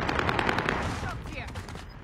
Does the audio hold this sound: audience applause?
no